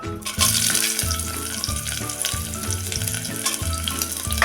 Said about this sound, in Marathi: आता त्यामध्ये टाकूया हा कांदा